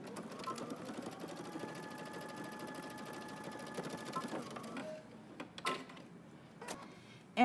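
Home sewing machine stitching a line on pant fabric runs steadily and close for about four and a half seconds, then stops, followed by a few scattered clicks and handling knocks.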